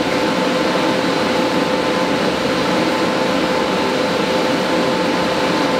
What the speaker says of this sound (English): Now I'm gonna go ahead and weld this seam in the middle.